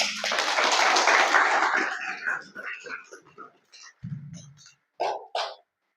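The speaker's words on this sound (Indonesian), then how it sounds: "Tepuk tangan." An audience of santri applauds at a character-building seminar, a loud burst of clapping that fades after about two seconds, followed by scattered quiet voices and a few short sounds.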